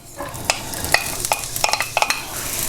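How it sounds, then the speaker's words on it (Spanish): Onion sautéing in oil in a hot pan over medium heat for a mushroom risotto, a steady sizzle broken by repeated stirring clatters of a utensil against the pan, close and moderately loud. "Lo primero, a pochar la cebolla."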